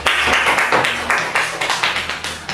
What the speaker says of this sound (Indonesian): ya boleh berikan apresiasi tepuk tangan.